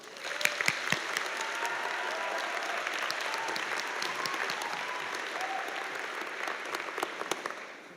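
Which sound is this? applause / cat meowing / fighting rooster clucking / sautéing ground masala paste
applause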